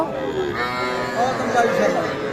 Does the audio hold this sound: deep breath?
no